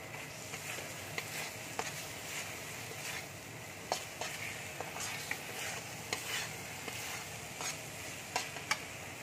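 Mutton keema fries in a pan with tomato going in, giving a faint steady sizzle. A spatula scrapes and taps in irregular bursts as the mixture is stirred.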